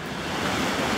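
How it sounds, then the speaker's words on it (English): Outdoor waterfall in rugged former gold-mining country, a steady, full roar of rushing water, loud and unbroken, with no talk. "What, a nice waterfall?"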